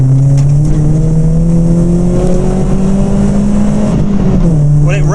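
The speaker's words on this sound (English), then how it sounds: "Well, it revs well." A modified Ford Fiesta ST Mk6 engine revs hard as the car accelerates through the gears on a road, heard loud from inside the cabin, pitch climbing, dipping at a shift, then rising again.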